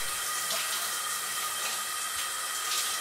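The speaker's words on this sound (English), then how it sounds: "Having a shower." A shower runs steadily in a home bathroom, giving an even, close hiss of spraying water that never pauses.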